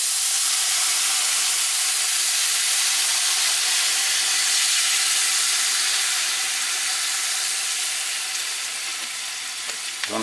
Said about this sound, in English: You want to deglaze the pan.